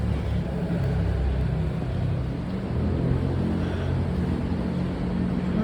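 A car is driven along a road in the Philippines, heard from inside as a steady low engine and road rumble, constant throughout with no talking.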